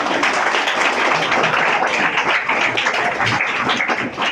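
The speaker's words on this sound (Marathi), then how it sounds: "टाळ्या वाजवा त्याच्यासाठी एकदा" An audience of students and teachers at a Guru Purnima gathering applauds a student with dense, steady, loud clapping that fills the room for several seconds, with no talk.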